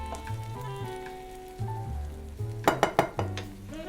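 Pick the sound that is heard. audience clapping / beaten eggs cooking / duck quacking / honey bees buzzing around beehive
beaten eggs cooking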